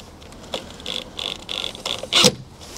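Self-tapping screw being driven to fasten facade battens, a series of short whirring, ratcheting bursts from a power driver, close and moderately loud, with a sharper final burst.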